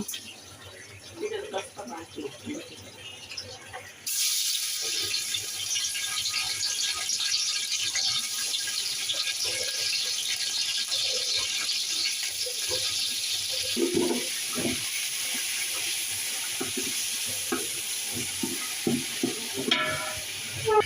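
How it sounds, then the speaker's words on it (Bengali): Chicken frying in white cooking oil for a Bengali fried rice and chicken kosha meal, a loud steady sizzle that bursts on suddenly and holds with stirring clatter, while a voice talks over it at times. "এবার আমি সাদা তেল দিয়ে নিচ্ছি মাংসটা বাজার জন্য"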